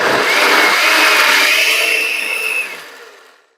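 A blender whirs loud and steady for a few seconds, grinding fresh cilantro into a salsa sauce, then spins down and stops.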